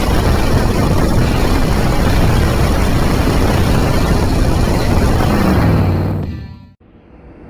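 The engine of a Willys Jeep CJ-2A runs loud and steady at close range, a dense rumble with no one speaking, until it cuts out abruptly near the end, leaving a brief low hum.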